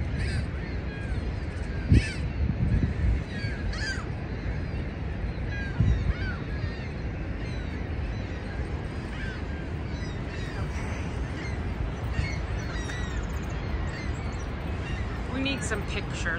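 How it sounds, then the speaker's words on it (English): Seagulls nesting below a series of three waterfalls call out repeatedly over a constant roar of falling water, their caws scattered and fairly distant, with a couple of louder bursts. "Look at that down there. All these seagulls."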